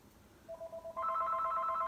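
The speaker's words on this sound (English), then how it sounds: "Oh, the phone's ringing." Telephone ringing upstairs in a house, a few short electronic beeps that give way to a sustained chirping ring, faint and somewhat distant.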